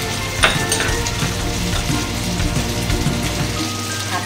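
Hotpot base with chili sa tế stir-frying in a pan, a steady loud sizzle and crackle with occasional scraping stirs, close and continuous.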